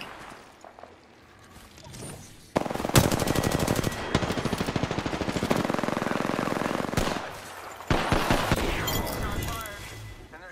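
Automatic gunfire in Apex Legends rattles in long, loud rapid bursts, pausing briefly between strings of shots, with players talking over the fight.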